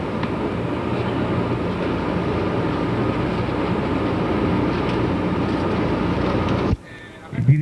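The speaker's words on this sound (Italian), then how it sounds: "Il dirigente movimento dà l'ordine di partenza e il treno si avvia." A 1990s Italian train departing a station in Trieste, a loud steady rumbling roar of rolling stock and machinery that holds constant before cutting sharply to a quieter interior sound near the end.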